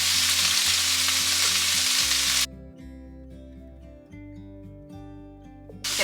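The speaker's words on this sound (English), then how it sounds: "Get all that pepper and spices mixed around" Peppers fry with minced garlic and Italian seasoning while being stirred, a loud dense sizzle that cuts off abruptly partway through, leaving quiet background music before the hiss returns at the very end.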